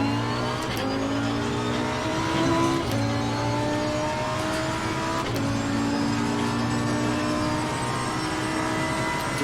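A GT race car engine drones loudly and continuously while lapping Monza in Assetto Corsa Competizione, the tone rising and falling through gear changes with brief shifts in pitch, no voices.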